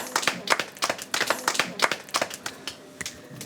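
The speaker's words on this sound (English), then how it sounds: "I think you should give yourself a big clap, because that is brilliant. Go on, clap yourselves." A few girls clap for themselves at close range, a quick uneven patter of sharp, bright hand claps that loosens and thins toward the end, with no talking.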